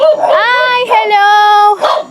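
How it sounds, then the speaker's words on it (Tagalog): A dog barks and yelps in a rapid, loud run of high, harmonic barks close by outside a house in Panglao, Bohol, with a brief break midway and a person speaking nearby. "May aso."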